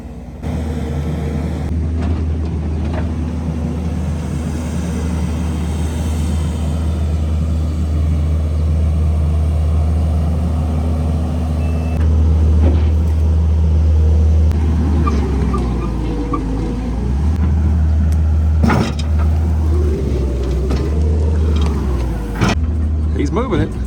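A 1980 GMC Brigadier truck's Detroit Diesel 6-71 engine rumbles steadily up close, its low drone rising and shifting as the truck moves, with people talking over it.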